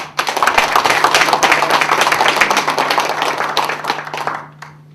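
Steady audience applause fills a formal gathering of an international green climate association as attending guests are introduced, dense clapping running nearly throughout before dropping off abruptly at the end.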